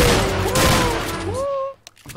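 Gunfire from the Atlas Uprising video game: a dense, loud volley of shots fills the opening seconds, then drops away abruptly, leaving a brief faint shot or two. Voices talk over the firing.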